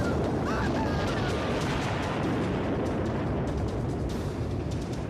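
A massive explosion sequence from an action film plays as a sustained, loud broadband roar and rumble with scattered crackling bursts, steady throughout without pauses.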